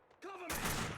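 Gunfire in the PC game Max Payne 2: The Fall of Max Payne breaks out as a sudden loud burst of noisy shots, preceded by a brief voice.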